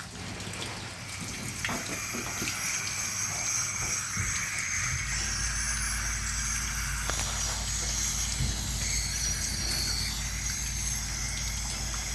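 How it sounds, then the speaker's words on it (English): Water from a hose runs in a steady gush onto an old AC condenser coil during cleaning with Nu-Calgon Tri-Clean, a continuous close spray with a few faint knocks and footsteps around it. "I'm going to get ready to turn the water on and get started."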